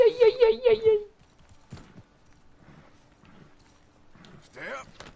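Horse hooves in Red Dead Redemption 2, a quick run of rhythmic clip-clop steps at the very start, loud and close, followed by near silence with faint scattered knocks and a brief burst of sound at the end.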